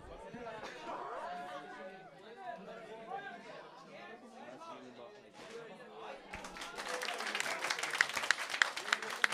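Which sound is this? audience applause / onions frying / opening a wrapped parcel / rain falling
audience applause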